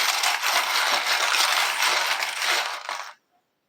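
Small metal charms are poured and jostled together in a continuous, bright jingling rattle for about three seconds before stopping abruptly.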